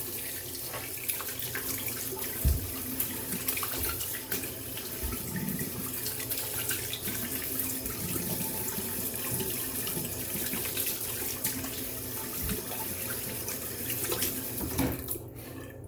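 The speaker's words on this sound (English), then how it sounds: "cold water rinse." A tap runs steadily into a sink for a long stretch, with occasional splashes and sloshing as cold water is scooped and splashed onto a face.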